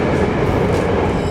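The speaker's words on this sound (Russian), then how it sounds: "Проезжая на метро в Нижнем Новгороде, можно смотреть достопримечательности" Continuous rumble of a Nizhny Novgorod metro train crossing the metro bridge over the Oka River, a loud, steady rolling roar heard from inside the car with no voices.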